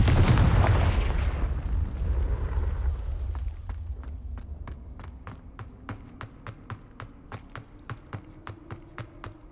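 Fire-spell blasts cast in the wizarding video game Hogwarts Legacy: a loud booming burst at first, then a steady run of sharp, evenly spaced cracking shots that grow fainter, with no talk.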